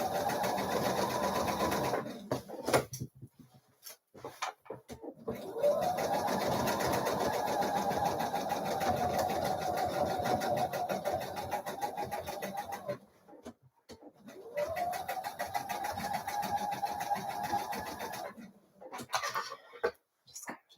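Sewing machine stitching the seam of a Mayfair dress, a steady close whirring run that stops and restarts in several long bursts with short quiet gaps between.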